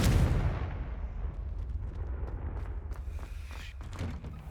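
A Confringo fire spell in Hogwarts Legacy goes off as a loud booming blast at the start, followed by a rumbling decay with scattered crackles and small pops.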